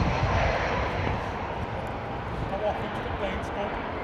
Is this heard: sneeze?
no